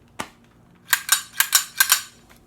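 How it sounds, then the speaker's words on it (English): A CO2 blowback BB pistol firing steel BBs: one sharp crack, then a rapid string of five close, snappy shots with brief pauses between them. "I get the blowback effect of firing a real weapon, but it shoots steel BBs"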